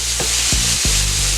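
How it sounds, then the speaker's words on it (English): Raw chicken hitting a hot pan for tacos, sizzling loudly and steadily with a few scraping stirs or placements breaking through the hiss, with no talking. "Ooh, sizzle, sizzle, sizzle."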